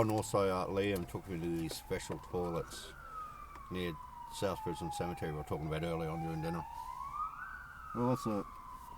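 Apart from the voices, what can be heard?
emergency vehicle siren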